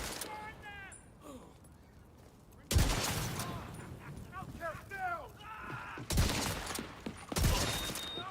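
In The Division 2, loud bursts of Model 700 rifle gunfire crack out at three separate moments. Game effects and a voice fill the gaps between the shots.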